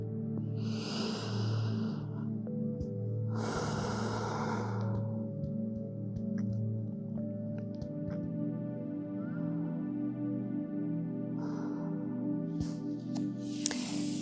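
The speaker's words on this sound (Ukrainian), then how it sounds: "Подовжений вдих, подовжений видих." A slow, deep breath in and out during yoga exercise, two long airy breaths near the start and fainter ones later, close and soft over a sustained musical drone, no speech.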